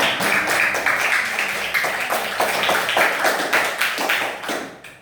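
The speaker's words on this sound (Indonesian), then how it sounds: "Berikan tepuk tangan." A classroom of students claps together for a classmate during a math lesson, a dense run of sharp hand claps that carries loudly for several seconds before trailing off.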